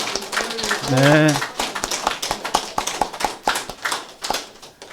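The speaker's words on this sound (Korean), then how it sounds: "다시 한번 감사 박수 올려드리겠습니다" Church congregation applauding during a Passion Sunday worship service, a steady patter of clapping hands running throughout, with someone speaking briefly over it near the start.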